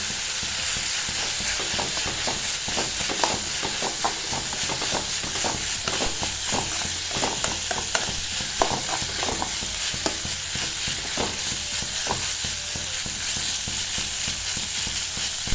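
Carrot poriyal with grated coconut fries in a pan, a steady close sizzle broken by repeated scraping stir strokes of a spoon against the pan, with no talk.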